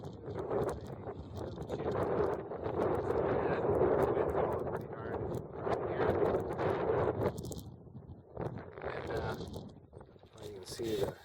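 Wind gusts buffet a hunting blind tent outdoors, a steady rushing roar with flapping bursts that rise and ease over several seconds, loud and close to the microphone, with a voice briefly talking near the end.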